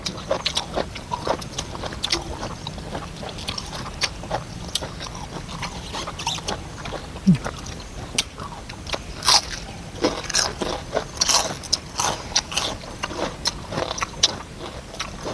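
Crunchy, close-up chewing of Thai sabai nang papaya salad eaten with fresh vegetables, with repeated wet bites and crisp crunches in an irregular rhythm, loud and alone with no talking.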